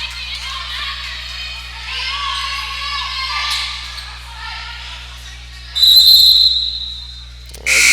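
A referee's whistle cuts through at a men's college basketball game, Jarvis Christian against OLLU, one loud shrill blast near the end over steady crowd murmur and squeaking court noise, with a second short chirp just after.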